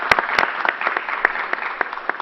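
An audience at a vaccine booster site claps steadily at moderate volume, a brief burst of applause with a few sharper individual claps standing out.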